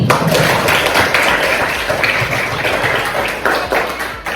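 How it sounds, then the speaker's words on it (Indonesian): A classroom full of people claps steadily, a dense wash of hand claps that stays loud throughout. "tepuk tangan untuk Febri"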